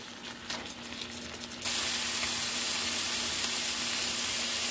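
Meat browning in a pan for homemade pizza topping, a steady hiss and crackle that starts quieter, then jumps to a loud, continuous sizzle partway through.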